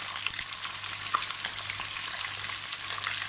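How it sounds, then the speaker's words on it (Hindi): Ginger garlic paste sizzles loudly in hot oil with frying beef for karahi gosht, a dense continuous crackle with occasional stirring scrapes, close and steady with no talking. "अभी मैं 1 चम्मच अदरक और लहसुन का पेस्ट डालूंगी।"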